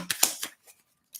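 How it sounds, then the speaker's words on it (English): Tarot cards being shuffled by hand, giving a few quick crisp riffling bursts close by, then a pause and a final short flutter. "You see me shuffling them, right?"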